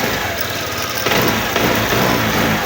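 Euro Samurai 155 motorcycle engine, up close and loud, running rough with a misfire during a pre-tune-up test, its steady revving broken by uneven stutters and surges.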